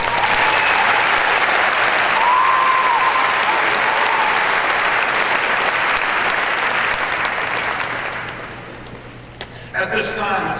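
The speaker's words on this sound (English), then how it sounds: "Give yourselves a big round of applause." A large crowd applauds steadily at a high school graduation ceremony, dense clapping holding strong for about eight seconds before thinning out and fading near the end.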